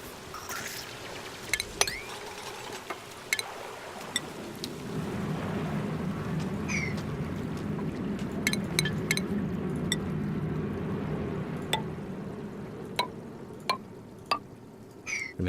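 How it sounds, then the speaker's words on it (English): Water drains into a pool in the game Oxygen Not Included, a steady splashing rush that starts partway through. Sharp clicks and taps sound over it throughout. "We're draining our water into this pool"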